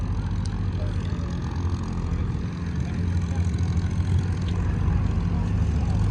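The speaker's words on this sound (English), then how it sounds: "This is a PBY Catalina, they call it." A PBY Catalina flying boat's engines at an outdoor air show make a steady, loud low droning rumble that fills the whole stretch, with no clear speech over it.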